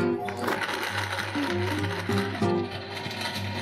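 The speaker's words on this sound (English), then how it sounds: "we're gonna blend all this up for about 45 seconds." A Vitamix Quiet One blender runs in a restaurant bar, blending a rum cocktail with white rum; its motor whirs steadily with stepped shifts in pitch for several seconds.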